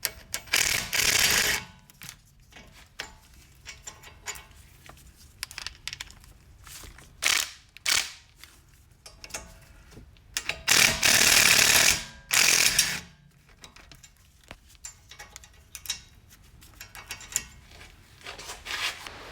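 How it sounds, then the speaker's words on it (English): Snap-on wrenches break loose the bolts on a Chrysler Town & Country front wheel bearing, giving repeated ratcheting clicks and metallic bursts in irregular clusters, fairly close, with quiet gaps between them. "so I got to break it loose again with these wrenches, snap-on wrenches"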